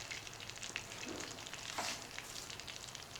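Steak frying in butter in a pan, a steady close crackle and sizzle with scattered pops, fairly quiet, no voices.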